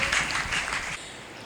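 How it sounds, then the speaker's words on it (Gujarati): An audience clapping to welcome a speaker at an education event in Bhanvad, a brief burst of dense, moderately loud applause that fades out after about a second. "આપણે જોરદાર તાળીઓથી એમને આવકારીએ"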